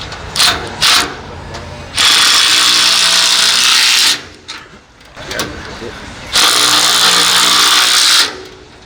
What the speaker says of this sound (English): he'll go through and tighten all 4 sets of the hardware to hold the bar in place